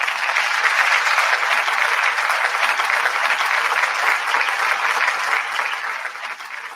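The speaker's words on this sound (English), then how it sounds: "Y'all give her a round of applause." An audience claps in continuous, dense applause that holds steady for several seconds before tapering slightly at the end, with no talking over it.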